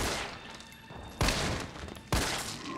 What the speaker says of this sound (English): it's just for the better to use the assault rifle to down these guys